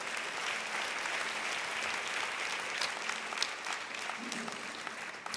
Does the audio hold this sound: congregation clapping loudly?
yes